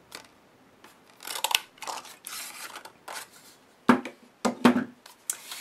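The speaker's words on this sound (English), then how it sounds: "right in the center I'm just going to go ahead and punch out a circle" Paper being punched with a 1.5 inch circle punch while crafting a birthday card, with a few sharp crunching clicks and rustles heard up close.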